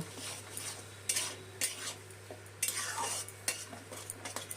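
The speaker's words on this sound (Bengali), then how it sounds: "গ্যাসটা হাই ফ্লেমে করে মশলাটা কষিয়ে নেব" Ground spice paste is stirred on high flame for palak paneer, a spatula scraping and clacking against the pan in irregular strokes over a light sizzle and a low steady hum.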